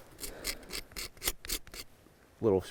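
A knife blade scrapes fine shavings off a piece of wood for fire starting, several short rasping strokes in an irregular rhythm, close and fairly quiet, followed by a brief voiced sound at the end.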